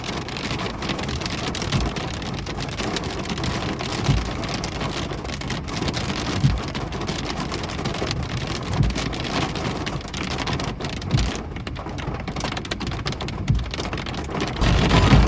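Heavy thunderstorm rain in Indre-et-Loire, France, pours steadily and loudly throughout, a constant broadband roar with occasional louder bursts, under a low rumbling background.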